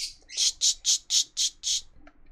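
Baby birds in a Sherlock Holmes video game chirp in a quick run of six loud, high, evenly spaced peeps, closing with one faint trailing note, no speech over them.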